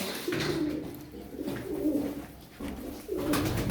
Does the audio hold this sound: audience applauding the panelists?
no